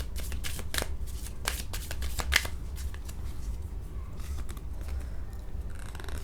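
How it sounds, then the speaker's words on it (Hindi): Tarot cards picked and shuffled by hand, a rapid series of crisp close card flicks and slides that comes in bursts and then thins toward the end. "इंट्यूटिवली मैं कार्ड्स को पिक कर रही हूँ"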